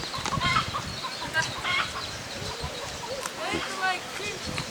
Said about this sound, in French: Il est content ici, les poules.